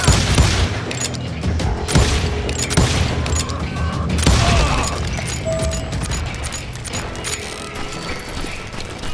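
Dense, sustained gunfire from a Call of Juarez Gunslinger shootout, with overlapping shots, mechanical clatter and occasional booms running loud throughout, no voices.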